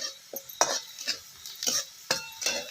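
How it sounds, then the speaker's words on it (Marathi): Green garlic tops, chillies and curry leaves being stirred in a pan for a spicy Maharashtrian thecha: soft scraping spatula strokes come in irregular bursts with a light sizzle, close by and with no talk. "ह्याचा चांगला आपल्याला एकजीव करून घ्यायचा आहे"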